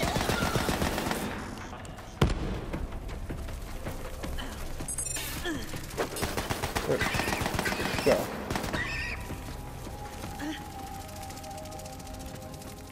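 Gunfire in Borderlands 3 comes in bursts and single sharp shots amid busy game effects, with horse-like whinnies and a voice talking intermittently over the action.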